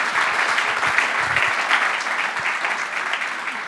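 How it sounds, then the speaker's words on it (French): A room audience at a round-table discussion claps continuously, a dense even patter of many hands held at steady loudness with no cheering or talk on top. "Vous pouvez applaudir, hein."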